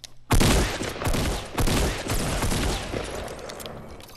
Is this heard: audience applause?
no